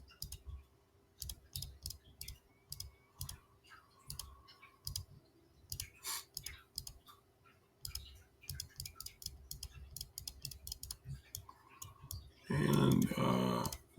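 A computer mouse clicks repeatedly in quick, light taps, close and quiet, while someone sets up supports in resin slicer software. A brief louder rustle comes near the end.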